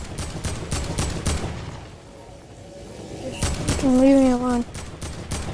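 Rapid gunfire from a shooter video game rattles in dense bursts close up, with a player's voice talking over it partway through.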